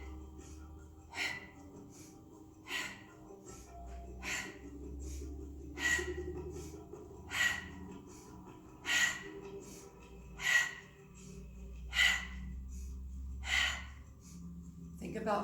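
Deep yoga breaths drawn in and pushed out in a slow, regular rhythm, roughly a dozen soft airy pulses close to the microphone over a low background hum.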